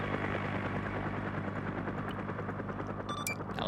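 Game helicopter in SOG Prairie Fire, a steady dense rotor drone with heavy low thumping that holds loud and unbroken throughout, mixed with rattling gunfire-like bursts and a few faint electronic tones near the end.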